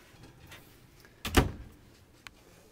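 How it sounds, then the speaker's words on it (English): A pull-out pantry in the kitchen of a 2007 Forest River Lexington 255GTS motorhome slides open in one short, rumbling glide, followed by a small click in an otherwise quiet interior. "And then the pull-out pantry here."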